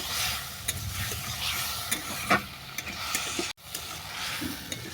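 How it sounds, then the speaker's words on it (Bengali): Spice paste with chili powder and potato frying in a pan, a low, even sizzle with occasional stirring scrapes and one brief dropout, no voices. "আর দিচ্ছি গুঁড়ো লঙ্কা আলু সঙ্গে মশলাটা ভালো করে কষিয়ে নেব"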